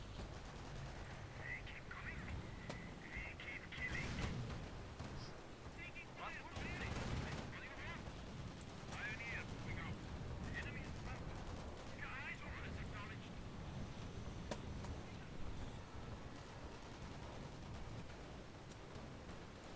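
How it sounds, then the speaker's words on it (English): Gunfire and battle noise around a base in the World War II strategy game Company of Heroes, with bursts and booms scattered over a steady din while in-game voices call out in the background. "Base is taking fire"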